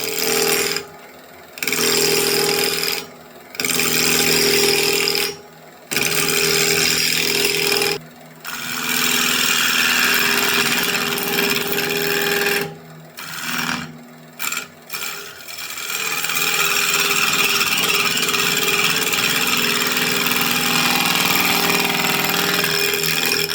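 A wood lathe spins a small scrap-offcut blank at about 1200 RPM while a half-inch spindle gouge roughs it round, giving a loud, rattling scrape that breaks off in several short pauses before running steadily.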